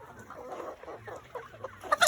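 Chickens cluck softly in a farm setting, with a sick, off-feed hen among them; irregular murmuring clucks run throughout, and a louder, sharper call bursts out at the very end.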